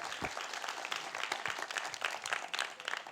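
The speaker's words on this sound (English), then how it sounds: "Let's give him a round of applause." Audience applause fills a hall at the STEM Vision Awards 2016 ceremony, a steady dense wash of many hands clapping at moderate loudness with a few sharper claps standing out.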